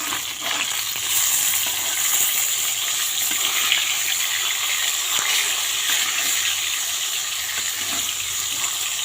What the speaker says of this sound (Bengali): লবণ হলুদ মাখিয়ে আমি এই যে মাছটা ভাজতে বসিয়েছি